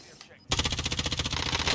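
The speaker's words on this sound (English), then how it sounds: "unfortunately I'm getting shot at now." Rapid automatic gunfire in Call of Duty Warzone bursts in after a moment of quiet, a dense stuttering volley of shots lasting over a second, close and loud following brief talk.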